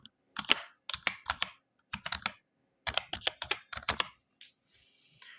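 Fingers tap on a computer keyboard in quick bursts of keystrokes, entering account details to sign in to Azure; the clicks are close and crisp, grouped with short pauses between.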